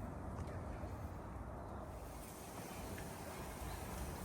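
Wind blowing outdoors around a garden with a Schefflera Nova plant, a steady low rumbling buffet across the microphone that fills the whole stretch.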